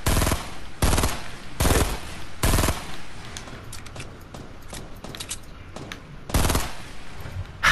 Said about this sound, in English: I'm gonna shoot out the floor.